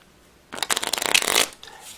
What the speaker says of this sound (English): Actually, we'll give them another shuffle.